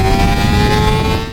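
A CFMOTO 500SR motorcycle with a full tank and standard tyre pressure accelerates hard from 0 to 100 km/h. Its engine gives a loud, close, steady roar, and the pitch climbs slightly through the run.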